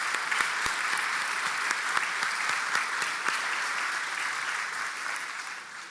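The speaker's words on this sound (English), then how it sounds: "we'd like for all of our faculty to stand so that we can give you a well-earned round of applause" A sustained round of applause from the audience at a college nursing pinning ceremony, honoring the faculty as they stand, with dense, even clapping that fades slightly toward the end.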